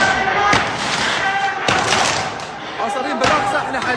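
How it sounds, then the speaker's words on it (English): Stun grenades and live gunfire at a violent clash, heard as three sharp loud bangs about a second apart, each with a brief echoing tail, over a constant crowd noise and chatter. "they're basically throwing stun grenades and even using live ammunition"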